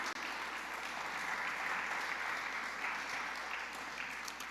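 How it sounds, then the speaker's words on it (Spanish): A church congregation applauding, a dense, sustained wash of clapping from many hands in a large room, steady and even throughout. "denle un aplauso al Señor"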